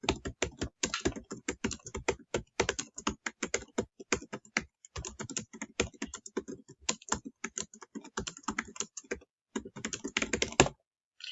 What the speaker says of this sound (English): So that's all we need to type here.